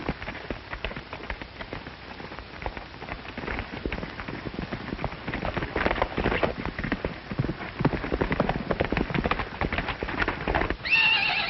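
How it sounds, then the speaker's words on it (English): A white stallion gallops with rapid clip-clop hoofbeats and loud neighs and whinnies, set against a rain-like wash of noise in an old Western scene. "that crazy white stallion broke out of his corral"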